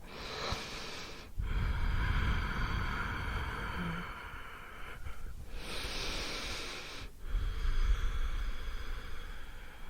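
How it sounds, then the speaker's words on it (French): Slow, heavy, deliberately amplified breaths during yoga poses, close to the mic, long hissing inhales and exhales with brief pauses between, no talking. "j'amplifie ma respiration for radiophonic purposes"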